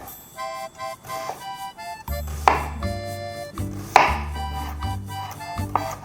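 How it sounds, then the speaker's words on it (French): Onions being finely chopped with a knife on a board for a Réunion salt cod rougail, a quick series of close, crisp cuts with a few short pauses, heard alone. "Voilà, on a nos oignons finement hachés."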